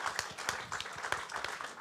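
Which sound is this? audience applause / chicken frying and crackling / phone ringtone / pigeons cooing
audience applause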